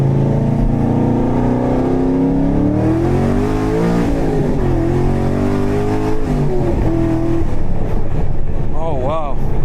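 A Chevrolet Camaro Z28 engine revs and pulls hard in steady, loud acceleration with rising harmonic pitch sweeps, heard from inside the car during a night drive, with a voice talking over it.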